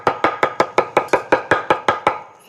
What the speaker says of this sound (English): Thyme, the leaves of the thyme. Let me just chop them up a little bit.